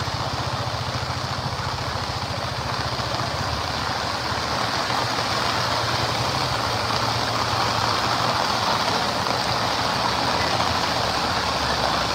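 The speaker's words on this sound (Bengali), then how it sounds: "যেমনটি দেখতে পাচ্ছেন একটি ট্রাক এখানে ঘুরাচ্ছে" A truck engine runs steadily as the truck turns on a flooded road in Feni during heavy rain. The low, droning hum holds at an even, fairly loud level under a constant hiss of rain, with no speech.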